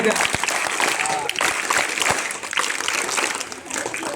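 Loud, dense clapping from an audience at a Zilla Parishad primary school programme, steady throughout with a voice speaking over it.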